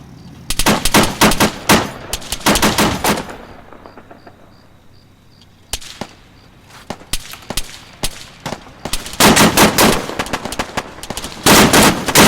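Gunfire and artillery in an Arma 3 battle, with dense machine-gun bursts and single shots cracking in loud clusters, a quieter lull in the middle, and distant thuds between the volleys.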